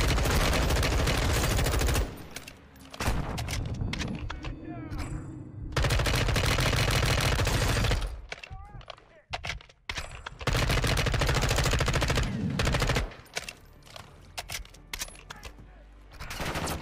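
Bursts of rapid automatic gunfire from the video game Call of Duty Modern Warfare 2, loud sustained volleys separated by short quieter gaps.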